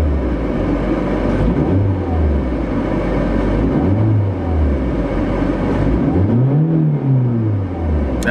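A BMW 318ti engine idles with a steady, low rumble, continuous, with a few slow rises and falls in pitch as the revs drift.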